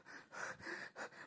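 A cartoon character pants out of breath in quick, rough gasps, four breathy pulses in a row, close and fairly quiet with no speech.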